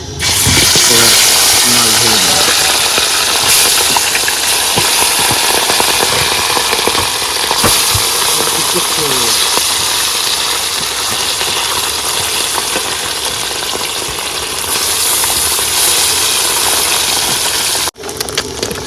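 Fish sizzling in hot oil in a pan, a loud, dense, continuous frying crackle and hiss that holds steady throughout with only a brief dip near the end.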